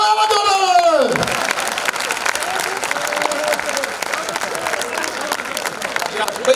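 An audience at a comedy mimicry show breaks into sustained, dense applause mixed with crowd noise, preceded by a brief swooping tone at the start.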